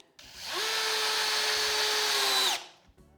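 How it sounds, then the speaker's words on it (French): A power drill drives screws into a wooden pallet, one sustained high whirring run lasting about two seconds, loud and close, rising at the start and winding down at the end. "grâce à ces petits trous, je risque pas d'éclater la palette lors du vissage"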